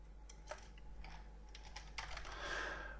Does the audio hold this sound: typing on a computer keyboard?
yes